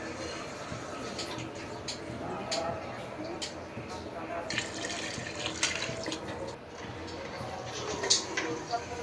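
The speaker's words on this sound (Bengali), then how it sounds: "এখন তো পরিমাণ মতো পানি দিয়ে দিলাম।" Water poured into a pot of fried rice for khichuri, a running splashing trickle that rises and falls over several seconds, close and moderately quiet, with a person talking over it.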